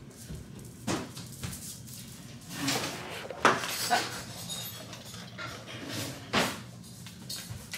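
Spoons and cutlery clatter in a home kitchen as kids fetch them, with scattered metallic clinks and soft knocks that come and go at a moderate distance.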